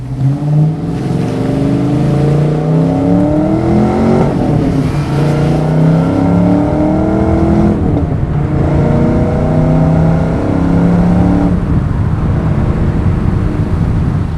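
A 1993 Ford Mustang Cobra with a 5-liter V8 pulls along on the road, its engine note loud and steady, with rising and falling pitch through gear changes and no voices over it.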